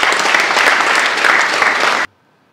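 Applause welcoming a slam performer at a chamber of commerce forum in DR Congo: dense, steady clapping from an audience for about two seconds, then an abrupt cut to near silence.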